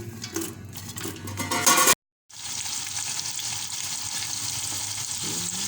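Onions fry in plenty of oil over low heat toward golden brown, a dense continuous close sizzle with stirring clatter at first, then a brief gap before the steady frying hiss resumes.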